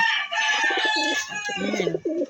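Young pigeons (squabs) shift about and coo close by, a run of soft, repeated throaty coos over a constant background hum.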